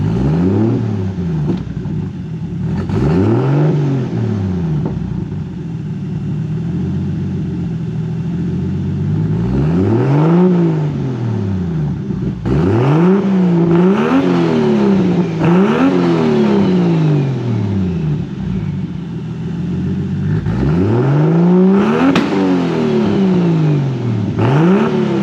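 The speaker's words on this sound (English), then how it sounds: "It's a vibrant 4-inch inlet outlet muffler." A car engine revs repeatedly through a Vibrant 4-inch inlet/outlet muffler exhaust, with rising and falling throttle blips in a rhythmic series, loud and close, no talking.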